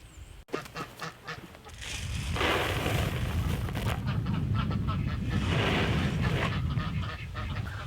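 A crowd of ducks and geese quacks and honks continuously nearby, a dense, noisy chorus that swells after a few scattered calls at the start.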